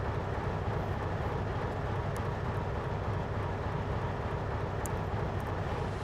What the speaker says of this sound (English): Here we will run a Shinkansen diesel consist.